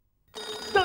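A telephone begins ringing after a short silence, a brief bright electronic trill that starts abruptly and grows slightly louder within a second.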